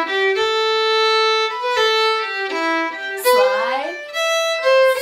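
A fiddle plays a short phrase of sustained bowed notes, close and clear, including two quick upward finger slides where the pitch glides up between notes.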